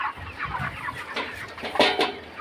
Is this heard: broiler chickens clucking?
yes